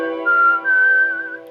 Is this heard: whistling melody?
yes